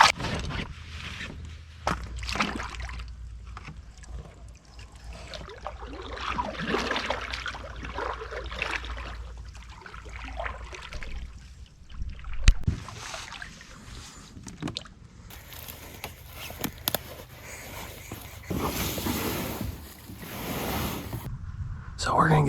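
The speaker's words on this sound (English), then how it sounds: "I'm gonna paddle over there and see if there's any way I can just get it around by paddling." Paddles dip and splash irregularly as a small boat is moved across water on a public-land hunting trip, with soft trickles and knocks between strokes and voices talking intermittently throughout.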